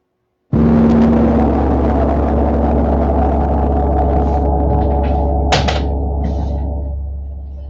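A large gong struck once for a healing sound, blooming into a loud, sustained shimmering drone that rings on alone for several seconds, with a brief brighter accent midway before the wash slowly starts to fade.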